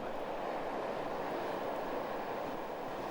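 A steady, even rumble of a moving Pyongyang metro train, a former West Berlin carriage, heard from inside with a continuous mid-range roar.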